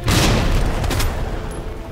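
A grenade blasts in the Resident Evil 2 Remake video game: one loud, booming burst with a sharp attack that rumbles on and slowly decays across about two seconds, with no voices.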